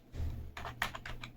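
Quick, light keystrokes on a computer keyboard, a short run of several close clicks in an irregular rhythm, quiet and alone.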